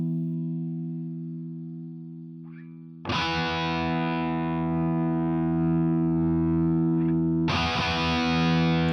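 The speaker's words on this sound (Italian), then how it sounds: "Senti come cambia il suono mentre giro il potenziometro" Electric guitar through a Mooer GE150 multi-effects unit on a Plexi amp model, a sustained chord re-struck twice as the gain knob is turned, the tone growing brighter and more distorted, loud and alone.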